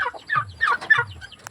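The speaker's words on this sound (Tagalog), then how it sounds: "Nag-iisang pabo." A lone farmyard turkey calls in a quick series of short, raspy clucking notes, close and clear with no talking over it.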